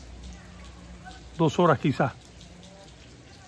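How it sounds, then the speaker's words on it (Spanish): Rain falls steadily on flooded streets in Caibarién, Cuba, a soft continuous patter in the background while someone speaks briefly in Spanish. "Paró la lluvia un momento, ahora volvió"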